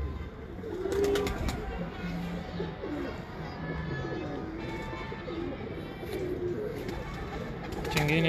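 Breeder pigeons coo steadily in overlapping low, throaty phrases, fairly close, with faint voices in the background and light bumps of handling.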